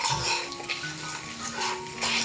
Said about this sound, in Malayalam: 1 ടേബിൾ സ്പൂൺ ഉഴുന്ന് പരിപ്പും കൂടി ചേർത്ത് ഒന്ന് റോസ്റ്റ് ചെയ്തെടുക്കാം